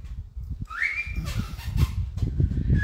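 A shepherd's sharp whistle signal calls Garafiano shepherd dogs at a breeding kennel, a rising tone followed by a sustained one, set against outdoor noise with faint dog and bird sounds in the background.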